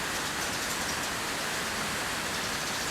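Steady rain falls outdoors as a constant, even hiss across the whole stretch, with no voices over it.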